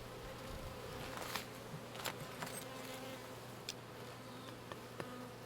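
Honeybees from an active, healthy hive buzz steadily while the hive stands open, forming a faint, continuous hum with occasional louder passes from individual bees.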